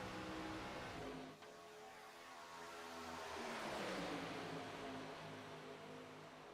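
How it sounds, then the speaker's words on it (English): Race cars in a sim racing game swell and fade as they pass along the track, engines rising to a loud roaring peak then tapering off, with a brief dip early on and no talking. "Enjoy the sights and sounds of the cars there for a little bit."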